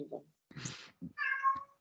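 A cat that has just woken up meows several times in quick succession, close and clear, with short chirpy calls ending in a longer drawn-out meow.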